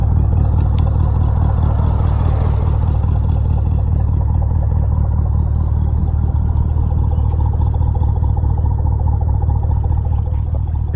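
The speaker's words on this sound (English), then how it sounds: "Let's show you some exhaust on this, and we'll wrap up the video." A 2011 Chevrolet Camaro 2SS fitted with Flowmaster Super 10 mufflers idles and revs with a deep, rumbling exhaust, steady and loud and close throughout.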